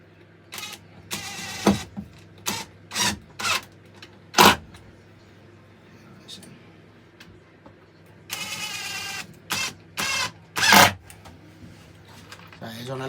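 A power driver on a low setting drives screws into a scaffold board table in repeated short whirring bursts with pauses between, one longer run in the middle.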